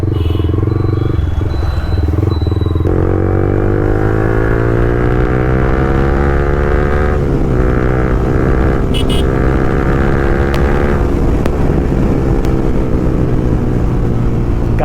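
A Yamaha R15 V3 motorcycle with a full-system Akrapovic exhaust rides past at dusk, its loud, raspy exhaust note climbing and dropping through downshifts in a continuous, close roar.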